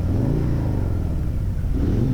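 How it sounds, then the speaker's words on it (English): A loud Harley-Davidson bagger motorcycle engine rumbles and revs up close, a deep throaty idle rising in bursts of throttle, with no voices. "oh, rev the engine a bit."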